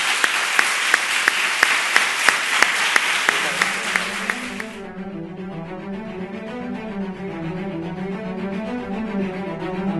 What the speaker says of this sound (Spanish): este fuerte aplauso de quienes están en la sala